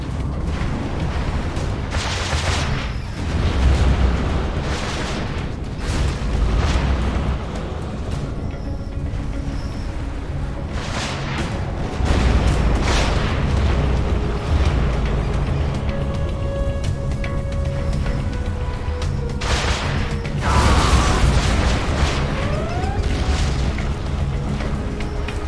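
Tomahawk cruise missile strikes in C&C Generals: repeated heavy booms and rumbling blasts, several explosions spaced across the clip, loud and near amid game effects.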